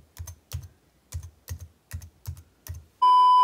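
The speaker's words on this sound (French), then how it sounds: "je me suis vite habituée à taper rapidement sur l'ordinateur" Rapid typing on a MacBook Pro laptop keyboard, with bursts of key clatter at a steady rhythm, close and clear, followed by a sustained electronic tone at the end.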